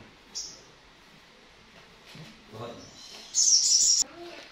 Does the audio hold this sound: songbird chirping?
yes